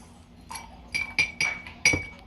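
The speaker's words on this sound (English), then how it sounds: "Pour popcorn kernels into the" Popcorn kernels drop into a glass of vinegar in a few sharp, bright clinks against the glass, close and distinct, spaced unevenly across two seconds.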